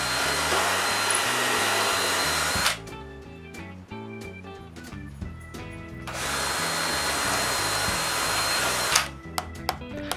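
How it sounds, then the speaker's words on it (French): An electric drill bores holes in wood for nails while a Coca-Cola bottle box is being built, its motor whining loudly in two long bursts separated by quieter clicks and handling sounds. "je perce des trous pour pouvoir clouer le fond"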